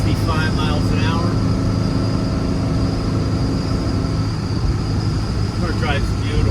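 A 1968 Porsche 912 soft-window Targa cruises at about 65 mph on the highway, producing a steady broadband roar of engine, road and wind noise, heard from inside with someone speaking over it.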